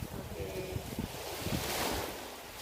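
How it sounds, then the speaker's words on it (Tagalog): Ocean surf at Kagusuan Beach on Siquijor washes in as a steady broadband rush, with gusty wind buffeting the microphone throughout. "so this is Kagusuan Beach"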